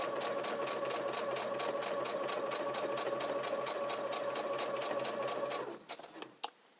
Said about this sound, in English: I'm using a Brother Project Runway limited edition sewing machine